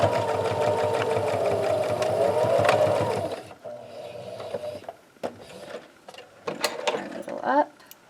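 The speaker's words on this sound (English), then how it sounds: "We're going to take it under our machine here and sew across the line" A sewing machine stitches across the seam line of a zipper pouch, a steady close mechanical whir for about three seconds, then stops, leaving quieter clicks, handling and fabric rustle.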